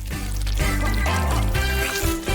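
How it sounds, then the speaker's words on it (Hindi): Honey poured over a candy-topped treat, a steady thick stream trickling and dribbling close up for a couple of seconds, with tonal background sound underneath. "मैं ऊपर से शहद डालूंगा।"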